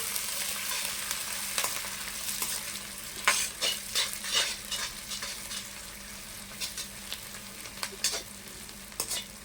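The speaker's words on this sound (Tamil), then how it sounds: "நம்ம அடுத்து வெங்காயத்தை எடுத்து போடலாம்" Soft steady sizzle of onions frying in oil, with a series of scraping stirs and light clicks of a utensil against the pan.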